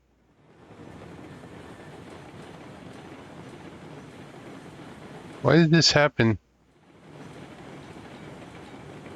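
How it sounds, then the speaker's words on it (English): A 30-car freight train rolling in the video game Railroads Online, a steady low rumble of wheels and cars that cuts out briefly while a person speaks, then resumes. "We need to slow this train down."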